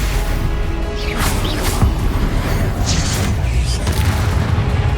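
Spell-casting combat effects from Hogwarts Legacy: loud, dense magical bursts, booms and whooshes layered over one another, with a voice shouting incantations over the top.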